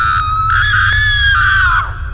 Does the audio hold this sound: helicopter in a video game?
no